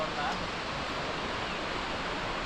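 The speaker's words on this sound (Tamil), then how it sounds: "அந்த சவுண்டு ஃபால்ஸே தெரியாமல் அந்த சவுண்டு கேட்குறதே ஒரு சுகம்தான்." Steady broadband roar of the Aagaya Gangai waterfall, heard from nearby but out of sight, filling the whole clip as a constant even rush with no breaks.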